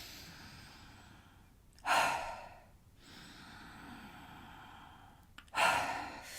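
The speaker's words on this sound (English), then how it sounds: "Let's do 5 big more breaths." Deep exercise breaths, two long forceful exhales standing out loudly between quieter, drawn-out inhales, close to the microphone.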